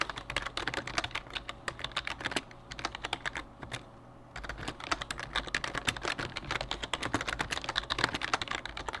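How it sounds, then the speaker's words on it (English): Steady, fast typing on a computer keyboard, close up, with a brief pause in the middle before the key clatter resumes. "Typing up the title right now for my food reviews I'm uploading."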